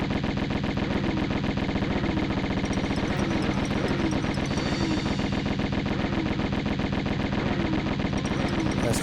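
Dual Uzis firing in Tomb Raider, a loud, unbroken stream of rapid automatic shots keeping a steady rattling rhythm for several seconds with no pause.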